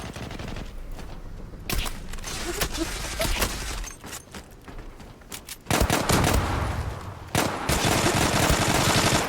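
Gunfire in the online shooter Zula, including Kar98 rifle shots, comes as loud rapid bursts and single sharp cracks in irregular clusters, with a brief quieter gap in the middle.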